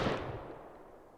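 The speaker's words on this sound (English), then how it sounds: "we will be testing the damage of the Python revolver. So first we will be taking a naked headshot" A single Python revolver headshot in the game Rust: one sharp, loud, close report that decays quickly into a short rumbling tail.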